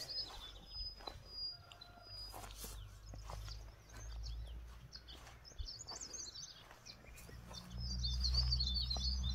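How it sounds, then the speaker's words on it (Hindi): Morning birds chirp and twitter in the distance over a low outdoor rumble in a mountain village in Uttarakhand, with occasional soft footsteps or shuffling nearby. "आप सवेरे के पक्षी जो बोलते हैं, कोलाहल करते हैं, उनकी आवाज़ आप सुन पा रहे होंगे।"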